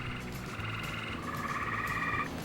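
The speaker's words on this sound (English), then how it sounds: "It's a frog." Frogs croak in a steady pulsing chorus outdoors near a school bus being converted into a Skoolie, with rhythmic trilling calls overlapping throughout, moderately loud and without speech.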